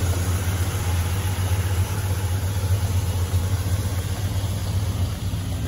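A 1972 Ford F-250 pickup engine idles warm with a steady, low, constant rumble and a faint hiss, unchanging throughout.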